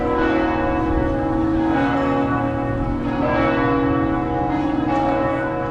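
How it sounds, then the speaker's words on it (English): Church bells chiming in Quebec City, a loud, rich ringing that carries steadily through the whole stretch with overlapping tones and no voices. "but the bells, the church bells are chiming right now."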